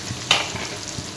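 Finely chopped onions fry for a fish curry with banana stem, a soft steady sizzle with a single brief scrape of stirring, close and moderately loud.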